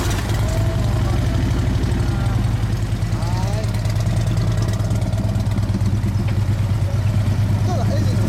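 A Honda Shadow 400 motorcycle fitted with a Takegawa full-spec setup and a Yoshimura exhaust idles with a steady, loud, low pulsing rumble throughout, with faint voices in the background.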